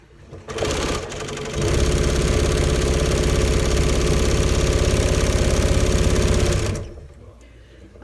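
A sewing machine stitches a pillow seam in one loud, continuous run of several seconds, its rapid rhythmic mechanical chatter starting and stopping cleanly, with quieter handling sounds before and after.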